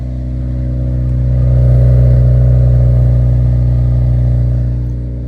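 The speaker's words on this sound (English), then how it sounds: "most of the exhaust fumes are leaking out of the header up here" Acura RSX engine idling steadily with a leaking exhaust header, a loud, close, continuous low hum with a slight swell in the middle and no talk.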